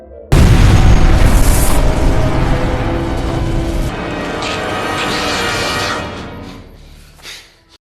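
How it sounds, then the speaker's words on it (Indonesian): A sudden, loud explosive boom bursts out and rolls into a long, rumbling decay with debris-like crackle, fading after several seconds. "Dentuman dahsyat membangunkan para remaja"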